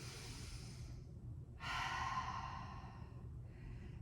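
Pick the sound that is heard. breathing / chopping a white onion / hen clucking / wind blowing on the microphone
breathing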